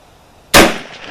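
A single sharp, loud gunshot from a Kar98k Mauser sporter rifle firing a Hornady 170-grain round-nose load, with a short ringing decay after the crack outdoors.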